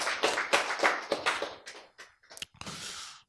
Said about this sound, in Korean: 어떤 분은 박수를 크게 치고,